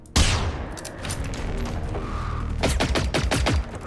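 Gunfire in the video game Generation Zero, a loud opening blast followed by sustained shooting and a late run of rapid, evenly spaced shots, close and dense with no talk.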